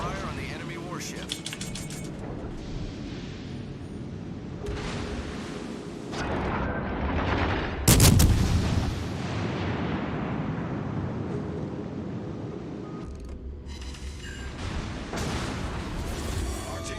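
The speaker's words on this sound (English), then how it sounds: "Concentrate fire on the enemy warship." Warship guns in World of Warships Legends, a naval battle game, firing amid engine and water rumble; one loud boom stands out midway, with someone talking over the steady battle noise throughout.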